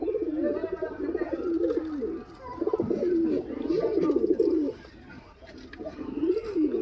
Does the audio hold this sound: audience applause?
no